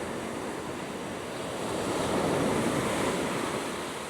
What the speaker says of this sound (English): Or it could be the waves.